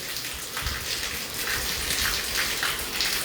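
Heavy rain pouring down in Hisar, Haryana: a dense, steady hiss of falling water with fine splatter, continuous and fairly close, with no voices.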